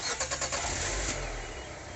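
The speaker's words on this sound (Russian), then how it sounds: "завожу машину" A car that sat for about an hour at nearly minus five degrees cranks with a rapid cranking rhythm, then catches and settles into a steady, loud rumbling idle, heard close with no talk.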